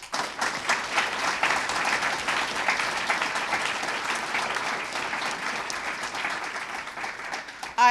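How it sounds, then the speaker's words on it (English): Sustained audience applause at a mayoral announcement on affordable housing, a dense steady wash of many hands clapping at even loudness for about eight seconds, swelling slightly at the very end. "each of them deserve a round of applause"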